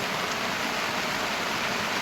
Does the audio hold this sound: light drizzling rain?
yes